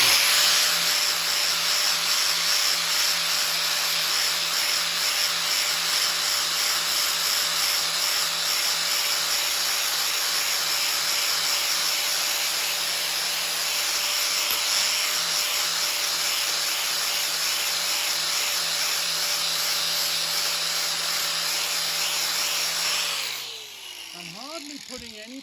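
An angle grinder with a flap disc runs steadily on a Record wrench being refurbished, a loud continuous whine with a held tone that winds down near the end.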